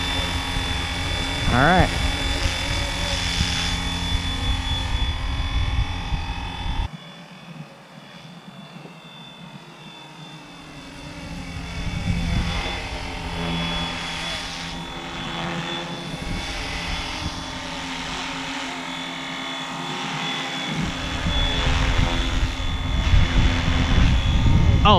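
A FlyWing Bell 206 RC helicopter with a tail motor modification flies with a steady whine and buzz that dips quieter partway through and then builds again, while a person talks briefly over it.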